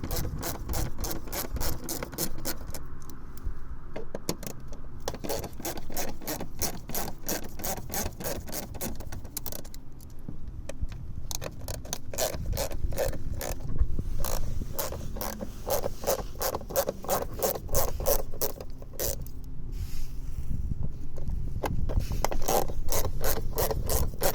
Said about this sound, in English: just get your socket and just start loosening them off